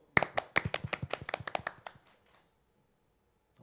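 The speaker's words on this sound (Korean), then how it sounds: "박수." A small group at a church service claps in a short, uneven burst of about a dozen close, sharp hand claps that taper off within two seconds, leaving quiet.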